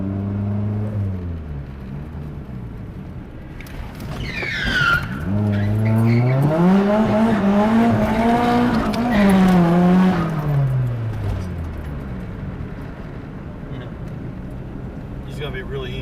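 Car tires squeal through a night drift, the screech bending upward and back down over a roaring, revving engine for several seconds before easing off.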